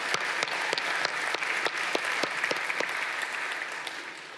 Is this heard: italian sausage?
no